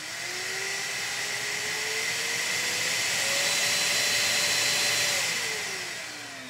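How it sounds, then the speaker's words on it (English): A Jashen V12 cordless stick vacuum cleaner runs steadily with a broad airy whoosh and a whining motor tone that rises slightly in pitch midway, then eases back down, fairly close and unbroken. "While running, the vacuum cleaner is quite quiet."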